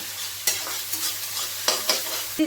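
Tomato with salt sautéing in hot oil, a soft steady sizzle broken by several sharp spatula scrapes and stirs, close up and without voices.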